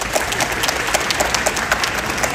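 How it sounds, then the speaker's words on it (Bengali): A crowd at a Bengali rock concert in Calgary, Canada claps loudly and continuously, a thick wash of applause with some individual hand claps standing out near the front. "তাই জন্য তাদের জন্য একটা জোরে হাততালি।"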